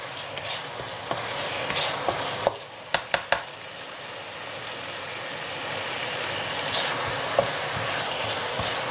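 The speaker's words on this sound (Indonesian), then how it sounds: "Ini aku tumis sampai airnya hilang ya." Tempeh stir-fried in a pan until its water cooks off, giving a steady close hiss of frying with a few sharp spatula knocks against the pan near the start and no talking.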